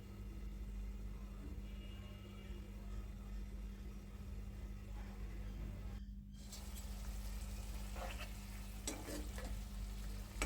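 Vegetables sizzle in a pan with onions and spices as a spoon stirs them, producing a steady low frying hiss with a few scraping stirs near the end, close and quiet, no voices.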